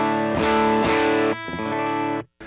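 Electric guitar through a driven Greenback AC30 amp patch on a Tonex, loud and distorted, with thick sustained chords struck in a steady rhythm that ring out, then cut off sharply near the end.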